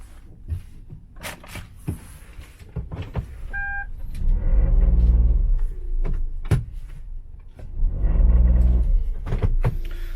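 Kia Ray car engine during a transmission stall test, with low rumbling revs rising and falling in two sustained surges, plus scattered clicks and a brief chime.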